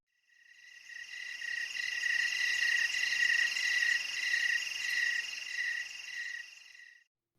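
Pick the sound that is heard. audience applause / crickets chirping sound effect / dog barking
crickets chirping sound effect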